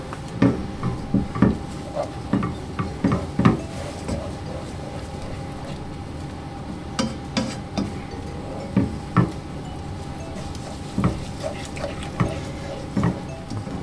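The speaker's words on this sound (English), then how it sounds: "I'm gonna put in some of our oats and then give that a good stir in" Oats stirred with a spoon into a heated flapjack mixture in a pan, producing a steady series of soft knocking and scraping strokes, close and moderately loud, with no talking.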